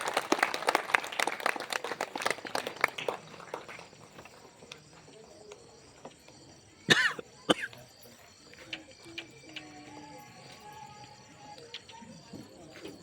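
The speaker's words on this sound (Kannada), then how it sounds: "ತಾವೆಲ್ಲ ಜೋರಾಗಿ ಚಪ್ಪಾಳೆ ತಟ್ಟಿ ಅವರಿಗೆ ಆಶೀರ್ವಾದವನ್ನು ಮಾಡಬೇಕು" At a 25th wedding anniversary function, guests clap in a burst lasting a few seconds, then it fades to a quiet room with a sharp knock and a cough.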